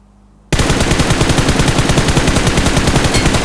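Sniper rifle fire in a shooting video game, starting abruptly after a short quiet moment, then loud close rapid repeated shots in a fast steady rhythm to the end.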